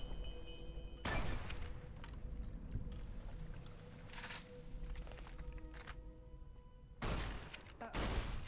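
Gunfire from shooting Powder Gangers in Fallout New Vegas, with several sharp, loud bursts of shots spaced across the stretch over a low steady background hum.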